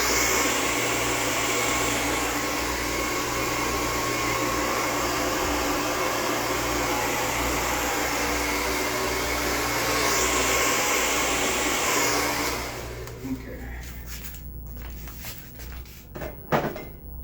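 Hair dryer blowing cool air during a salon blowout, a steady loud close whoosh that runs for about twelve seconds before cutting off, leaving faint handling clicks and thumps behind.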